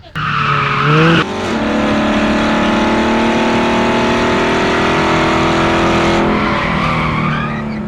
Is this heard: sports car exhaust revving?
yes